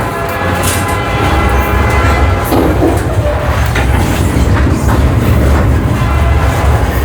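A Texas Hill Country passenger train rolls along the rails, a loud continuous rumble with rhythmic clatter and a brief squeal partway through, heard up close from aboard.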